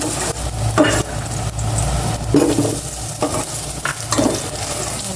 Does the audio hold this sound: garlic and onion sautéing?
yes